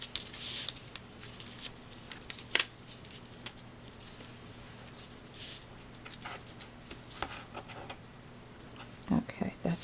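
Scissors cut through card paper for a photo frame card in a few short, quiet snips and rustles, with a person talking softly over them.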